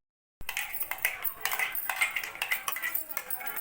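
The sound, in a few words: stirring carrot paste into cashew and groundnut paste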